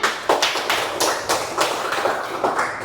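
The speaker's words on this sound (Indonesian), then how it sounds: "Ya, tepuk tangan." A classroom group breaks into applause, many hands clapping in quick bursts with a few short gaps, close and loud, fading slightly toward the end.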